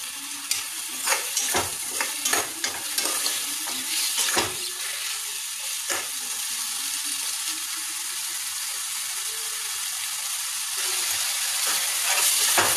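Vegetables for veg biryani sautéed in a pan over medium gas, a steady loud sizzle with scraping stirs and occasional clinks of the spoon, continuous throughout.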